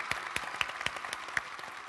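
A television studio audience applauds with sparse, distinct claps that arrive in an uneven, loose rhythm. The clapping is fairly quiet and steady, and no one speaks over it.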